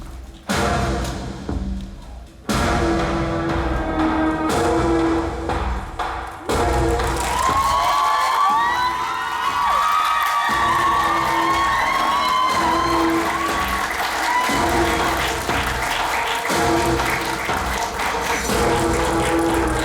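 An audience at a film screening with a guest talk applauds and cheers as the director and actors are welcomed, a sustained wash of clapping rising after brief breaks, with music playing over it.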